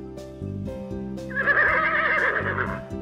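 A toy horse gives a loud, clear whinny with a rising, wavering tone lasting over a second, surrounded by plastic toy clatter during children's play with monster truck toys.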